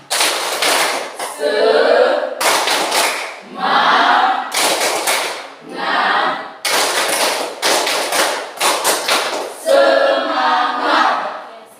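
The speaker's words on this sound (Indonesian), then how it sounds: "Tepuk semangat." A classroom of students performs a rhythmic spirit clap, bursts of loud clapping in a set pattern alternating with short chanted or shouted group syllables, repeating several times close and lively.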